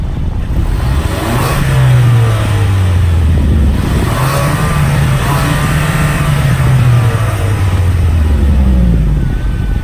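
A Kia Stinger 2.0 Turbo engine revs up close and loud in several rising and falling pulls, the pitch climbing and dropping in repeated swells over a continuous rough engine roar.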